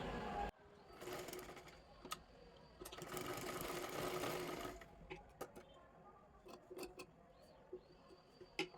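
A sewing machine runs in two quick whirring bursts while stitching the square neckline of a blouse cut from a kath-border saree, followed by scattered soft ticks and clicks as the fabric is adjusted.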